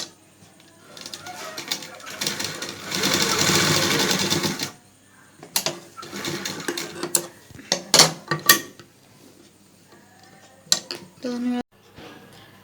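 A sewing machine runs a double seam on a plain salwar in bursts: one long steady whir of stitching, then several shorter runs separated by pauses, with clinks and handling noises between them.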